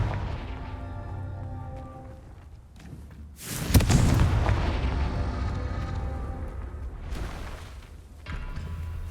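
A Confringo spell blast in Hogwarts Legacy: a sudden loud booming explosion that rumbles and crackles for several seconds over a low background hum, followed by a second, softer swell near the end.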